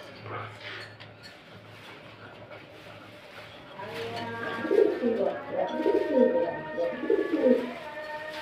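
Blue bar pigeons coo in a repeated rolling pattern that grows louder and busier toward the end, with a low steady hum underneath and no talk.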